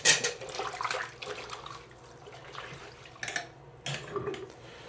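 Wool socks hand-washed with hotel shampoo in a sink, soft sloshing and splashing water in uneven bursts close up, no talk.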